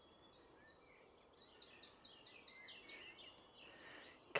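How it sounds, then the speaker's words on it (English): Birds sing along the Monarch's Way, a car-free country footpath near Stow-on-the-Wold in the Cotswolds, England, with a faint, steady run of repeated high chirping notes over a soft outdoor hush. "All we can hear is birds"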